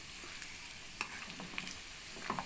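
Pork belly frying in hot oil, a steady soft sizzle with scattered small crackles and pops, fairly quiet and close.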